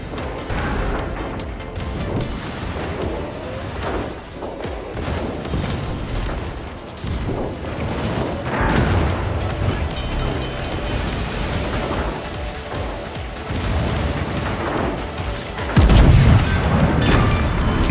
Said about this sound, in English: I got too many ships firing at me here.